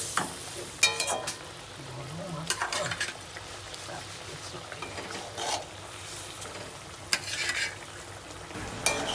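Fish frying in a pan for a Bengali fish curry, a low steady sizzle under scattered stirring scrapes and utensil clinks, fairly quiet and close, with no talk.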